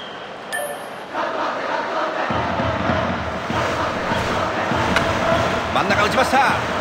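A dense, roaring stadium crowd in a baseball video game, Pro Yakyu Spirits A, swells and holds steady, a broad wash of cheering with faint announcer-like talk and occasional sharp clinks on top.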